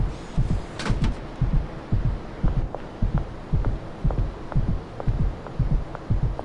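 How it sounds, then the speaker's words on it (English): A steady, rhythmic heartbeat thumps in low double pulses throughout, close and fairly loud, with a faint hum underneath and no talking. "We can hear our heartbeat."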